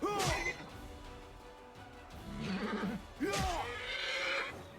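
Two loud, close horse neighs in Pathfinder: Wrath of the Righteous, one at the start and another a few seconds later, with game clatter and background noise between them.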